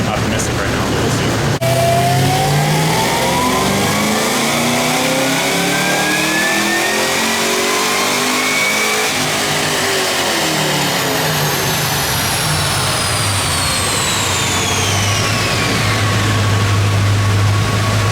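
A bolt-on fifth-generation Chevrolet Camaro ZL1 V8 revs hard through a dyno pull, climbing steadily in pitch for a long sustained sweep, loud and close, then dropping back toward idle, with talk over it.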